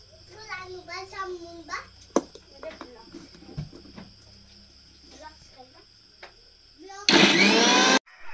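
An electric mixer grinder whirs loudly and steadily for about a second near the end, chopping chutney ingredients with salt, green chilli and a little water, after a stretch of a voice and quiet kitchen sounds.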